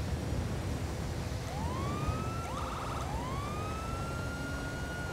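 A police siren wails in several rising sweeps, with one rapid yelp burst in the middle, sounding at moderate volume over a low background rumble.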